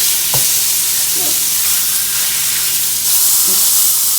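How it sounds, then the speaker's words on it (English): A steak searing over high heat in a pan, Ruth's Chris style, giving a loud, even hiss with a couple of brief thumps and knocks. "You see how it sears it? Just sears it right up."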